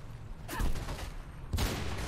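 Gunfire in the video game Mirror's Edge: two loud bursts of shots, one around the half-second mark and another near the end, over a steady low background rumble.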